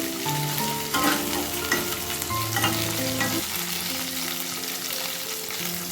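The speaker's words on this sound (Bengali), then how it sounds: "এই দেখো ফুলকপিগুলোকে আমি হালকা ফ্রাই করে নিচ্ছি" Cauliflower florets lightly frying in oil in a pan on a stove give a continuous loud crackling sizzle with stirring scrapes throughout. Faint tonal music plays underneath.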